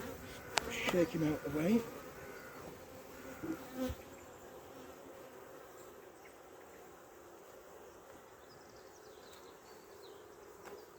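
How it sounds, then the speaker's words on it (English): A small wasp buzzes around an open beehive in a cabin garden, a close, intermittent drone in the first two seconds and again near four seconds, then fading into faint insect hum, with a brief spoken remark early on. "It's a wasp. It's not one of my bees, it was a little wasp."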